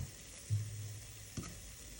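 Plantain fritters fry in hot oil with a faint steady sizzle, a couple of soft bumps from the pan, and no voices.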